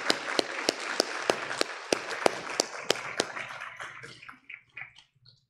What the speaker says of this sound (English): let's give a round of applause for Savannah Van Buren from Jackson County Comprehensive High School